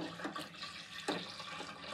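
Morgans Amber Ale wort pours into a Fermzilla conical fermenter, a steady splashing liquid rush at moderate level, with a brief louder gurgle midway and no talking.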